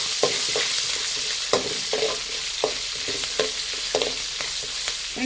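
Green chillies, about fifteen of them, fry in oil over a medium flame for khara pongal, a steady close sizzle broken by regular scraping stir strokes, with no voices.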